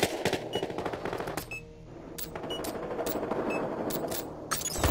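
Rapid automatic gunfire rings out in Battlefield Hardline, dense close bursts of shots with metallic clinks and a brief pause before more volleys.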